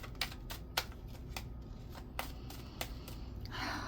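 Tarot cards shuffled by hand, a string of sharp, irregular riffles and snaps close by, ending in a soft sliding rustle, with no talking.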